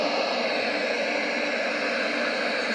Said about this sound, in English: That is the white noise.